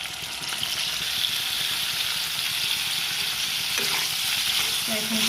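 Boiled pasta sizzles loudly and steadily in a frying pan while it is stirred, with a continuous close crackle and occasional scraping from the stirring.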